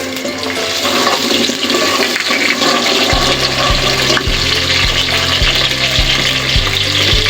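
Onions in hot ghee with cumin crackle and sizzle loudly and close, a dense steady hiss with repeated stirring knocks and no talking.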